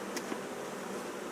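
Honey bees hum at a hive entrance just after a new queen has joined the united colony, a soft continuous buzz with a brief louder pass of a single bee near the start.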